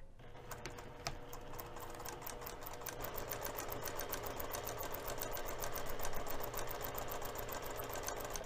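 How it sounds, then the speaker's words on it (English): A sewing machine runs a 1/4 inch seam down the long edges of an infinity scarf, a fast, steady mechanical stitching rattle that stays close and continuous throughout. "we're going to sew both of the long edges using a 1/4 inch seam allowance"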